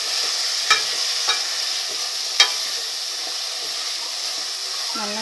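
Sliced carrot, beans and potato are stirred into a sizzling veg kurma. A steady frying hiss continues throughout, with a few sharp spoon scrapes against the pan, close and fairly loud, and no talking.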